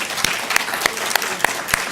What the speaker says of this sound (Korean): 우리 하나님께 감사의 박수 드릴까요?